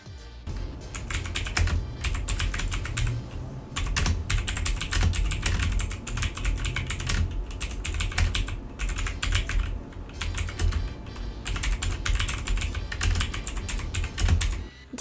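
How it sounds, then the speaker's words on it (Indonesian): Loud, clicky mechanical keyboard typing on a Rexus Legionare MX9 with Otemu Blue switches, rapid and continuous with brief pauses between bursts, close up. "Otemu Blue pada keyboard ini pun terasa lebih berisik jika dibandingkan dengan Getron atau Cherry."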